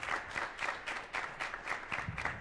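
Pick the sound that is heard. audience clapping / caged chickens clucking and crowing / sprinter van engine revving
audience clapping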